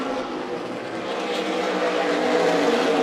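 Race cars of the Spears Southwest Tour roaring around Tucson Speedway, a steady, dense engine drone from the pack at moderate distance with no break over a few seconds.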